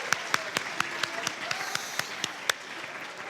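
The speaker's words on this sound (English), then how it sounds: "So let's give him a huge round of applause." A school audience at Burlington High School's Poetry Out Loud event applauds the poet in residence: fairly faint, scattered clapping from a modest crowd with a few sharper, evenly spaced claps standing out, and no voices over it.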